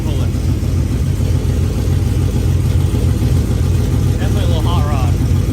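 A hot rod truck engine running on race gas idles loudly and steadily up close, its low rumble holding even throughout while people talk over it.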